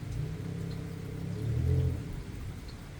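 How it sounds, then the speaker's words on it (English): Rain falls after a severe thunderstorm as a soft, steady patter. A low rumble swells briefly in the middle of the three seconds, and no voices are heard. "Rain stopping."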